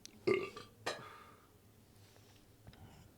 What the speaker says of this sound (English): I'm just burping